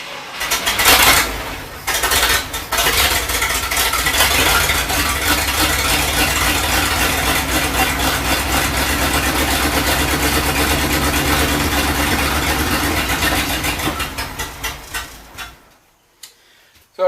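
A 1971 IH Blue Bird bus engine fuelled through the carburetor starts with a few rough catches, settles into a loud, steady ticking run close by, then stumbles and dies as it runs out of gas.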